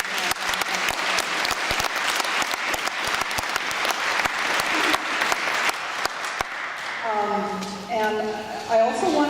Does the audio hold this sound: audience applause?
yes